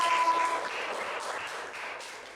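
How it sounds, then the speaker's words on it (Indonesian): Steady applause from a class in a classroom, a dense wash of clapping hands holding at an even level for a couple of seconds. "Tepuk tangan dulu untuk Viva."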